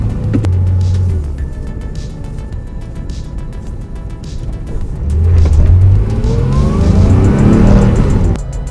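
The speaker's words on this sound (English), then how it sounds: "so we're gonna do the first drive in this car" A 1974 Porsche 911, freshly fitted with upgraded suspension and brakes, takes its first drive: the engine rumbles, eases off, then revs hard as the car accelerates near the end, loud and close with no talk.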